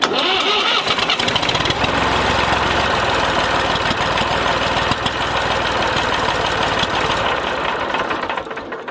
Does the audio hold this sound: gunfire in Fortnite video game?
no